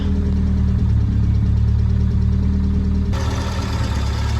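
A Triumph Spitfire's engine idles on the road after a repair with new spark plugs, a steady close, loud mid-low drone with a slight knocking pulse, and no voices.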